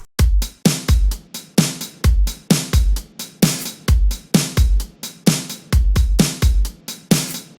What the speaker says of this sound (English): and the drums all together sound like this.